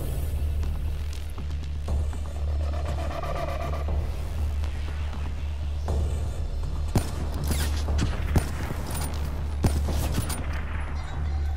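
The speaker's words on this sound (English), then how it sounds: "these shots are fucking hitting" Gunfire in a competitive 1v1 shooter video game match, with scattered shots cracking over a steady low rumble of game ambience, a few sharper reports standing out near the end.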